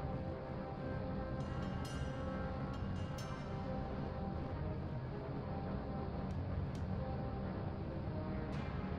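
Steady rocket engine burn from a Kerbal Space Program launch, a loud continuous roar with a hum underneath and a few brief high clicks, no talking.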